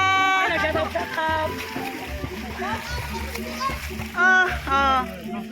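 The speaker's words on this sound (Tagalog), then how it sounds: "Maligo ang mga bata guys" Children splashing while bathing in water, with bursts of splatter and excited kids' voices and shouts, the splashes rising loudly near the end.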